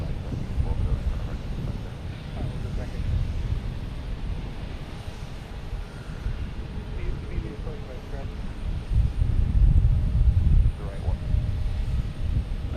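An Airbus A321neo airliner at Logan Airport rumbles with a broad, low engine roar that builds and fades, heard at moderate distance under wind noise and occasional talk.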